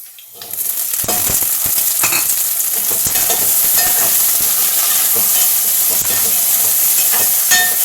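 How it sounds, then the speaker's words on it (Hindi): Onion and potato fry in a pan for a soya biryani, a loud steady sizzle close up with occasional scraping stirs cutting through. "अब ये हमारा प्याज और आलू फ्राई हो रहा है।"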